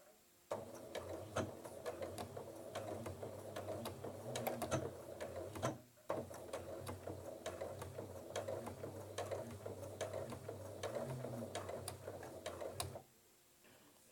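A domestic sewing machine runs in steady stretches while stitching fabric for a tote bag, its rapid mechanical ticking and motor hum pausing briefly midway before resuming, close and fairly quiet.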